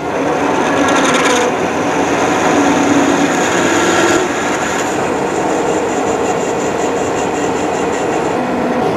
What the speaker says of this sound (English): now I'm going to drill it 1/2 inch for 1 inch deep